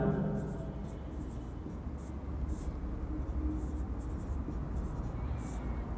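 Chalk or marker scratching across a board during a vector calculus lecture, a steady, fairly close writing sound with continuous strokes over a low room hum and no clear talk.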